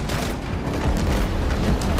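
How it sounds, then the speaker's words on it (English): A dense, rumbling explosion in the shark game Maneater, a sustained loud blast with crackling debris spread across two seconds and no talking. "An explosion ought to get a reaction."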